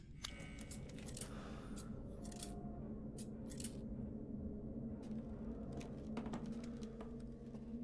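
Metal scissors snipping in Resident Evil Village, a few sharp separate cuts over a constant low ambient game drone, with no talking.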